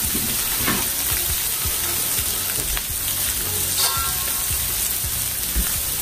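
Blackened salmon pieces fry in about two tablespoons of oil on a hot griddle, giving a steady, close, dense sizzle with soft crackles and occasional pops throughout, no voices.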